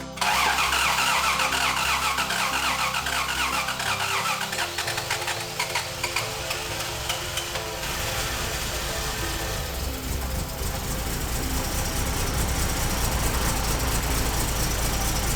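A Toyota Soarer Z10 cranks and catches, then runs on its own fuel injectors, the engine note loud and close, rising and settling into a rough, steady idle.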